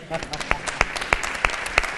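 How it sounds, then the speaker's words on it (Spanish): A small audience at a talk gives applause for a woman named Katie, with a handful of distinct, evenly spaced loud claps over a thin background patter. "Un fuerte aplauso para Katie, por favor."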